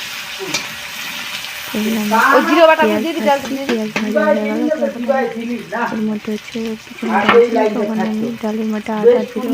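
Onions frying in hot oil in a pan until reddish-brown: a steady sizzle with stirring runs the whole way, partly covered by a tonal, voice-like layer that comes in after the first couple of seconds.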